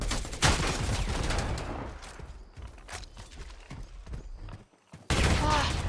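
Rapid gunfire bursts in the video game Predator Hunting Grounds, dense repeated shots that thin out midway, then a loud burst returns near the end, with a player talking over the action.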